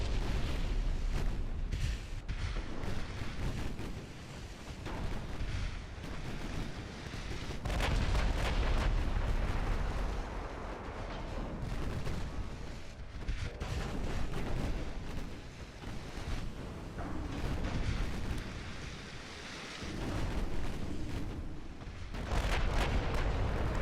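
Naval guns firing armor-piercing shells in Ultimate Admiral Dreadnoughts, a rolling series of deep booming salvos and heavy rumbles that keep overlapping at a steady distance, with no talk.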